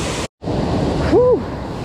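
Steady rush of water pouring over a creek spillway, a loud continuous broadband wash close by, briefly cut by a short gap and overlaid by a faint whistling tone near the middle.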